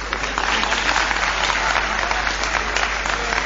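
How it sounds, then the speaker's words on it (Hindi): An audience at a Hindi poetry recital (kavi sammelan) claps in sustained, dense applause at even loudness from start to finish. "ताली में मजा नहीं आया।"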